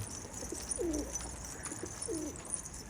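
Domestic pigeons in a loft give two soft, short coos about a second apart against a quiet, hissy room background.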